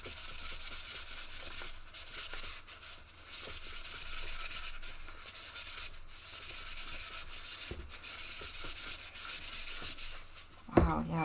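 Fine sandpaper rubs steadily over a Japanese foil ball in quick, soft scratching strokes with brief pauses, close and fairly quiet, ending in a short louder knock.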